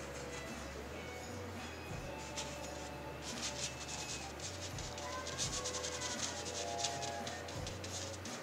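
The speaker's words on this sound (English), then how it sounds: "I'm trying to mix the color on the surface, so that's why there's some scrubbing going on" A paintbrush scrubbing oil paint back and forth on a canvas, a soft steady rubbing scrape close to the ear, with brisker rhythmic strokes partway through and a voice talking quietly now and then.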